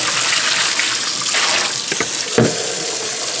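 Water pours steadily over freshly washed eggs in a filling sink, a continuous gushing wash with a brief splashy surge near the end.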